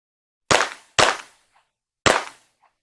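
Three sharp, loud Springfield XD-M pistol shots fired close by: two in quick succession, then a pause before the third, each snapping off with a short decaying tail.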